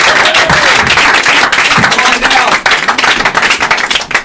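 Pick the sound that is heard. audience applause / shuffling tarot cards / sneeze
audience applause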